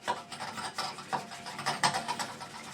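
A mechanical hand mixer churns with a rhythmic rasping, grinding whir in uneven bursts, close by and fairly quiet, with no talking.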